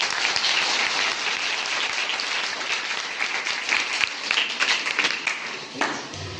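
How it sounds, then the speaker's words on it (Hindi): Sustained audience applause at a school event, many hands clapping loudly and continuously, fading slightly toward the end. "इसके लिए तालियां बजाइए।"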